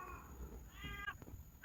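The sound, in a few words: cat meowing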